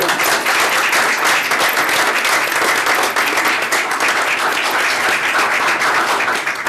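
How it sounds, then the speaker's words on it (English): Loud, sustained applause at a school committee meeting for student athletes, many hands clapping continuously without a break. "So big applause for all the student athletes."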